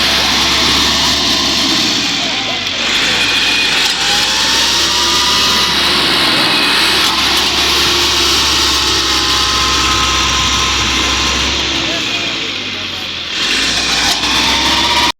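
A tractor stuck in the ground runs its engine hard and close, a loud continuous drone that shifts slightly in pitch, with a voice speaking over it.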